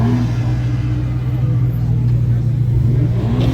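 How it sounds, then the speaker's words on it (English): Stock BMW M4 engine idling and revving, a loud steady low rumble with a slight rise toward the end, alongside indistinct talk. "It's a very stock M4 rev."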